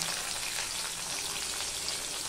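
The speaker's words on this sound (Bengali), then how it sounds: "এবার আমি পেঁয়াজটা দিয়ে দিচ্ছি।" Onions frying in hot spiced oil for a Bengali sour dal and okra dish, a close, steady hiss and crackle that holds evenly throughout with no talking.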